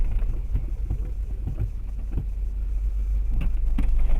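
A car engine rumbles low and steady as the car edges back a little outdoors at a village traffic stop, with faint rustling and wind over the constant drone.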